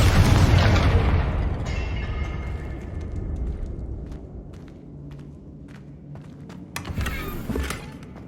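A Confringo blasting spell going off in Hogwarts Legacy: a loud, heavy boom that rolls into a long fading rumble with scattered debris clatter, then a second burst near the end.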